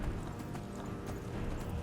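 A horse's hooves clip-clop in Skyrim, a close continuous trotting patter over a dense low rumble of ambience, with no talk.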